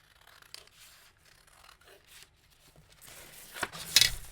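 Scissors snip through paper while a junk journal cover is cut out of an art canvas. Soft scattered rustles come first, then sharper, louder cutting strokes near the end, close by, with no talk.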